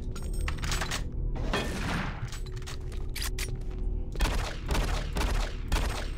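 Rapid gunfire from weapons in Doom 3 BFG Edition, repeated close bursts of shots and thuds fired in quick clusters throughout about six seconds, loud and dense with no speech over it.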